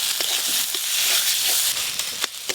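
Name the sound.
spices frying for pangas fish curry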